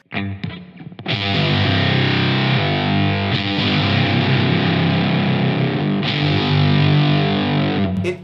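A loud, buzzy fuzz guitar, a Fender Jaguar through a Mother Mary The Fly octave fuzz pedal, rings out sustained notes after a short picked lead-in, thick and saturated with a dense upper edge.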